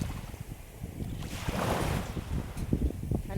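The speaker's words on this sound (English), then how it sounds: "I can't vlog in the water because y'all aren't going to be able to hear me because of the waves" Ocean waves wash in steadily at a quiet beach with clear water, a broad rushing swell rising and falling with gusts of wind buffeting the microphone; no one speaks.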